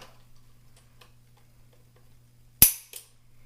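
A Ruger Wrangler revolver dry-fired with snap caps loaded gives one sharp, loud metallic trigger click, then a softer second click moments later, over a low steady hum in a quiet room.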